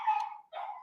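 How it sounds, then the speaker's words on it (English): A small house dog gives two short, high yapping barks close by, separated by a brief pause, with no talk. "our little house dog is yapping"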